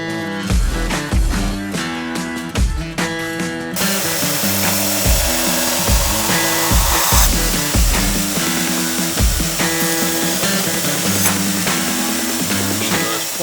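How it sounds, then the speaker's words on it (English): A belt grinder works a steel knife blade, a loud continuous rasping roar with pulsing strokes as the blade is pressed and lifted against the belt, heard alone and close up. "as long as the belt is fairly new, it's gonna continue to cut and remove steel"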